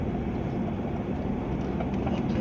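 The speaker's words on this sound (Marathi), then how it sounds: "वंदे भारत ट्रेन होती." A Vande Bharat train rolls past on the Mumbai–Goa route near Sangameshwar, a steady, fairly loud rumble and rush of wheels lasting throughout with no voices over it.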